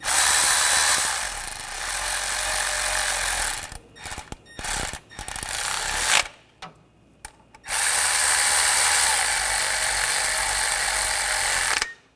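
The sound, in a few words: tightening timing belt bolts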